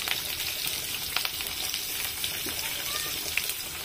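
Small chopped onions fry in hot oil with an even, close crackling sizzle and a few faint stirring knocks, no voices.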